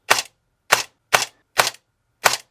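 A Cyma M14 airsoft AEG with precocking fires five crisp semi-auto shots, each a short sharp snap at a steady, slightly uneven pace, close and clear with no talking.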